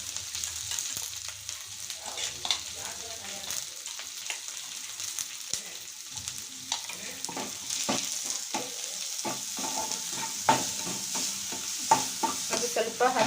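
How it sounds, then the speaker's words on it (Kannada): Freshly ground masala paste fries in a pan for a North Karnataka curry, giving a steady close sizzle broken by frequent scraping and stirring clatters, with no talk. "ಅದು ಸ್ವಲ್ಪ ಹಸಿ ವಾಸನೆ ಹೋಗೋವರೆಗೆ ಸ್ವಲ್ಪ ಫ್ರೈ ಮಾಡ್ಕೊಳ್ಳಿ"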